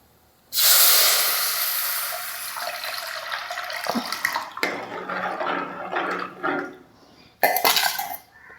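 Kudampuli soaking water poured from a vessel into a simmering fish curry, a loud hissing splash that starts abruptly, wavers and tapers, then a second short pour near the end.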